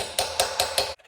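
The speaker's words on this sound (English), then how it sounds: "I'm just gonna use a chisel to get in there and get underneath it" Hammer striking a steel chisel driven under a metal tab on a 1970 GMC 2500 truck, four sharp, evenly spaced metallic taps close up, then silence.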